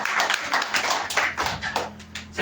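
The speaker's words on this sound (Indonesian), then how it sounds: "Boleh kasih tepuk tangan paling meriah buat Tuhan." Church congregation clapping together, a run of loud, close rhythmic hand claps with uneven bursts, fading toward the end as a low hum comes in underneath.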